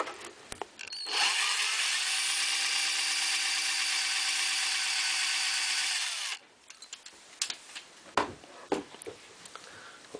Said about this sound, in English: So I'm just going to try and drill these out and we'll see does that work